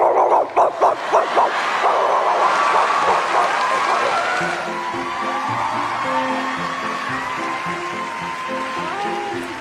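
A young girl imitates a dog with her voice: a quick burst of short, rhythmic barks at the start, then longer whimpering, yipping sounds, all close and fairly loud.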